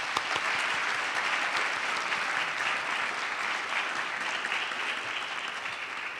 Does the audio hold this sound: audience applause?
yes